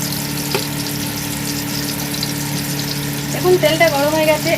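Oil heats in a pan for malai pyaz sabji with a steady, close frying sizzle throughout, a voice talking over it toward the end.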